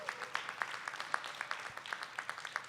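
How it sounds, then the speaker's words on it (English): Audience applause for a schools chancellor at an elementary school event, faint and distant, with individual claps audible in a loose, fairly regular rhythm. "So please give a big round of applause to Chancellor Farabee for DC Public Schools."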